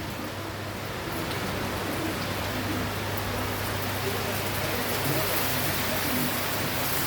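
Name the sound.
rain falling in big drops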